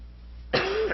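A single person coughs from a cold, one short harsh burst that is close and fairly loud over a low steady hum, with no talking.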